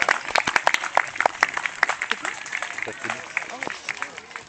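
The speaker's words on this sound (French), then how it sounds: "Je crois qu'on pourra les applaudir bien fort." Audience at an outdoor bird of prey show with owls and falcons applauding, a ragged burst of claps that thins over a few seconds, with scattered voices mixed in.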